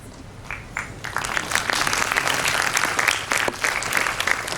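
Applause at an Independence Day celebration begins with a few scattered claps, then swells into a full, lively round from the gathered audience, fairly close and steady to the end.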